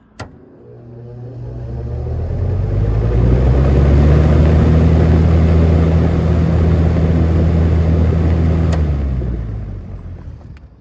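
A vintage Kmart K-223 box fan spins up to high speed, its motor hum and blade whir swelling into a loud steady drone, then easing off toward the end.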